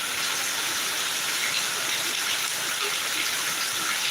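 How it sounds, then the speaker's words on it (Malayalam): Heavy summer rain pours steadily in Kallambalam, a dense, unbroken hiss that holds at the same level throughout. "നല്ല തോരാത്ത മഴ പെയ്യുന്നുണ്ട്"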